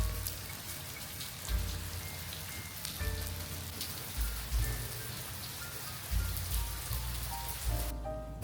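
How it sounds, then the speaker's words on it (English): Rain falls on Sumilon Island, a steady hiss of drops pattering on surfaces, punctuated by soft low thuds and heavier splashes, with no voices. "but it rained."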